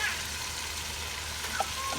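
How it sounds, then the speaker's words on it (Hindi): Mashed, softened tomatoes frying with dry spices in oil give a steady close sizzle with faint stirring scrapes, continuous and even, with no voices. "सारे ड्राई मसाले इसमें डाल देंगे। और अब हम इसको अच्छी तरीके से भून लेंगे।"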